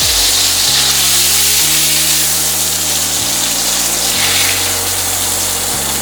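Steak sears loudly in a pan with steak sauce, a dense, continuous hiss and crackle holding steady throughout, with faint tonal hums shifting underneath.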